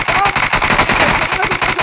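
Rapid, loud video-game gunfire, a dense burst of repeated shots in a steady rhythm filling the whole moment, close and punchy, with talk mixed in underneath.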